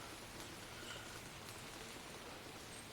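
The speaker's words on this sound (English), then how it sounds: "The rain's starting to pick up." Rain falls steadily on a deer hunting stand in Michigan woods in early October, a faint, even patter and hiss with no talk.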